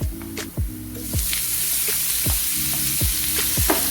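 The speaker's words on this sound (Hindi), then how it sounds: "जब तक कीमे का कलर चेंज नहीं होगा हम तब तक इसको फ्राई कर लेंगे।" Half a kilo of minced meat (keema) frying with browned onions in a pan, a loud close sizzle broken by several scraping stirs of the spoon.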